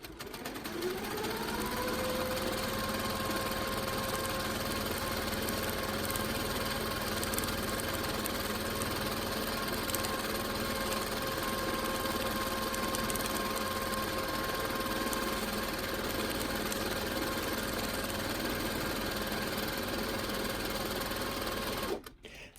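A sewing machine stitches stipple quilting on a Wildflower 9-Patch quilt, a steady rapid whirring hum with a faint motor whine that spins up at the start and runs unbroken for about twenty seconds before stopping.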